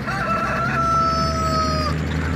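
A chicken in the game Farming Simulator 17 calls out in a long, drawn-out crow over a low background rumble, loud and close.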